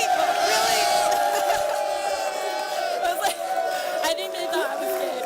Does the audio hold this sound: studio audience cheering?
yes